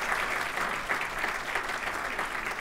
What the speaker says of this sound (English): Another round of applause for Donna.